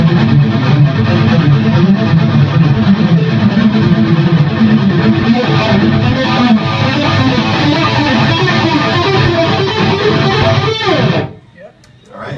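Heavily distorted electric guitar rings out loud and dense, a sustained wall of sound swelling and holding steady for about eleven seconds before cutting off abruptly.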